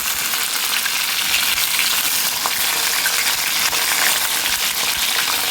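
Bombay duck fish pieces frying in oil over low heat, a loud, dense and steady crackling sizzle heard close up without pause.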